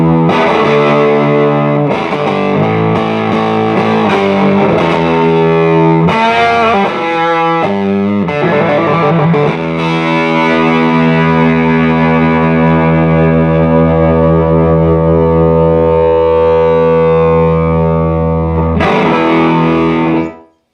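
Electric guitar played through a PTW Tweedster, a 15-watt 5E3 tweed replica amp, with the normal channel cranked: loud, sustained distorted chords ring out continuously alone, with a few re-struck changes early on.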